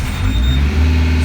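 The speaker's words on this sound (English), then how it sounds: "hold it there for about 8 seconds before turning the key to start like so" Engine of a Sapphire Emblem boat at a ferry marina turning over and catching on the key, a short loud low rumble that settles into a steady idle.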